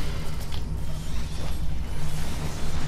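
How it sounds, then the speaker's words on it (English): A door unlocking and creaking open in the Final Fantasy XIV dungeon Haukke Manor, heard as a steady mechanical grinding creak with a low hum that runs the full length at a fairly loud level, with no talking. "Sometimes it's very hard to get that door unlocked with all of them on your ass."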